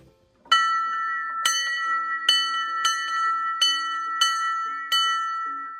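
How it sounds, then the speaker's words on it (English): A large outdoor property bell on a three-acre homestead rings with bright metallic clangs. There are seven evenly spaced strikes, each ringing on and overlapping the next, loud and close. "I'll ring it once for you guys right at the end here"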